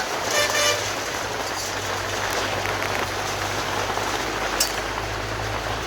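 Rain falls steadily outside a shop, a broad constant hiss and patter with a low traffic rumble beneath and a short car horn toot near the start; no one speaks.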